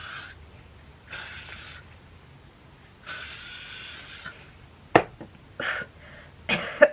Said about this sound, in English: Spray from underneath to hold those curls.